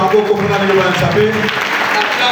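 A church congregation at a Bible seminar bursts into loud, dense applause, clapping evenly and close for the whole moment, with voices mixed into the crowd noise.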